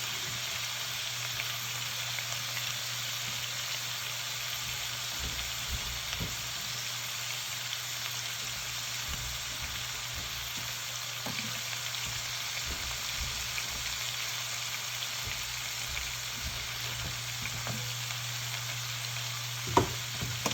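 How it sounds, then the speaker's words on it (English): Pearl onions fry for a pot roast with a constant, even sizzle close by, broken by occasional soft clicks and stirring taps and no speech. "I'm gonna add some pearl onions in there."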